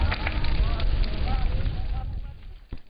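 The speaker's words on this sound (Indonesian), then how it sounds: "angin yang bertiup kencang membuat api cepat berkobar dan menghanguskan seluruh isi bangunan rumah" Roaring house fire whipped by strong wind, a steady dense crackling rush with gusting wind noise across the microphone, loud and continuous before easing slightly at the end.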